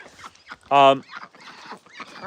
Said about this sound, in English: we got the ducks all chilling in the back